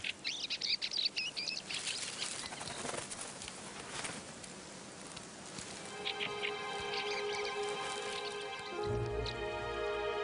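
Fieldfares chatter and call in an orchard where leftover pears and apples lie, with scattered chirps and some soft pattering early on, then a steadier run of bird calls.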